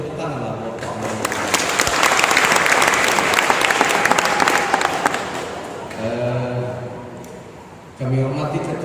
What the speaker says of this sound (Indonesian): Kalau boleh tepuk tangan lah Bapak Amaroki